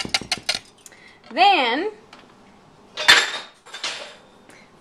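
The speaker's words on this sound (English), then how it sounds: "we're going to mix it together with a whisk so that it's all nicely incorporated" A whisk clatters against a bowl while apricot bread batter is mixed. It comes as a quick burst of metallic clinks at the start, then sparse scrapes and taps between bits of nearby talk and a brief warbling tone.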